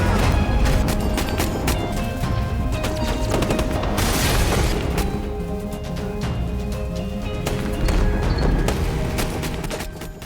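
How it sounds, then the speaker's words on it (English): Loud, dense movie gunfight between a heist crew and police with SWAT troops: continuous volleys of gunfire, booms and crashing impacts packed close together over a thick rumbling backdrop, with no let-up throughout. "a gunfight occurred between Danny's crew and the police"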